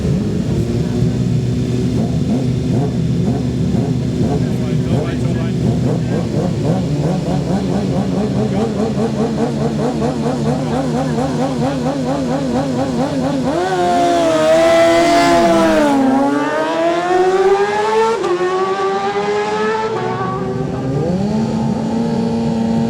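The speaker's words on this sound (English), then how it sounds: "Wayne Kerwin acknowledging David Lumsden before they both blast off down Bray Hill" Racing motorcycles at the 2010 Manx Grand Prix Senior race roar away down Bray Hill, their engines loud and close, rising and falling in pitch with a sharp Doppler sweep as the bikes pass, while a commentator talks over them.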